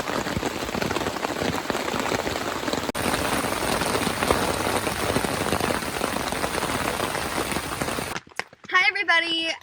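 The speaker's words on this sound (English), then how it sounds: "we are camping out in a thunderstorm, and it's actually really exciting" Steady, dense rain pounds a tent during a thunderstorm at a campsite in Caddo Valley, Arkansas, a continuous hiss filling the space before cutting off abruptly, after which a voice briefly speaks.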